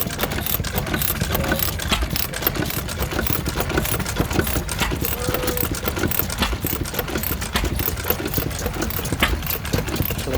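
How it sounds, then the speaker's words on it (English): A Tom Senior open crank gas engine with a dynamo runs steadily, a rapid even chuffing and clatter close by, loud and alone throughout. "Something rather miniature here is the Tom Senior with a dynamo, open crank gas engine"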